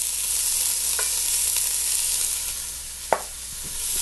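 Onions frying in a pot for a vegan sweet potato and kale soup, giving a steady close sizzle throughout with a few sharp clicks of stirring near the end, no voices.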